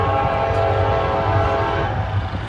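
A Connersville local train sounds its horn, a steady sustained blast holding loud and continuous throughout, with the low rumble of the passing train underneath.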